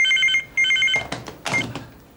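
Old telephone ringing in a TV drama office, two short electronic ring bursts followed by clattering handling noise as the receiver is picked up, loud and close.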